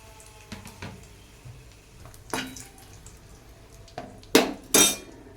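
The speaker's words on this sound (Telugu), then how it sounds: "ఫస్ట్ నేను మిరపకాయలు వేసుకుంటున్నాను." Red chillies go into a hot pan for onion chutney, with a few sharp metallic clinks and short rustling bursts over a faint background sizzle, spaced irregularly.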